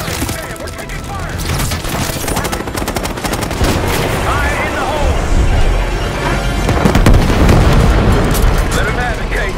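Dense gunfire and explosions in the video game Call of Duty: Black Ops 6, loud continuous bursts of automatic fire with heavy booms, under game character voices.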